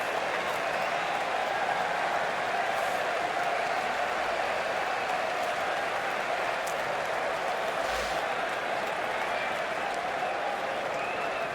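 Test cricket crowd applauding England bowler Ollie Robinson, a broad, steady wash of distant clapping from a large stadium audience that continues unbroken throughout.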